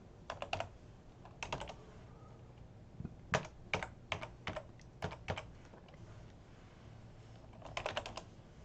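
Commands are typed on a computer keyboard while setting up a conda environment, in short clusters of quick, close keystrokes separated by brief pauses, with no voices.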